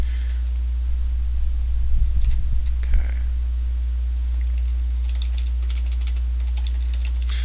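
Close-up typing on a computer keyboard while modding Freeworlds, a short burst of quick clicking keystrokes in the middle of an otherwise quiet stretch.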